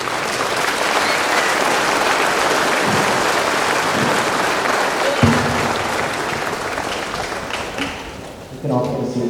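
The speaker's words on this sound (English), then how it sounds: "Please, a big round of applause." At a Code Talkers medal ceremony, a large audience applauds for a performer, a sustained, even roar of clapping over several seconds that fades near the end as voices come in.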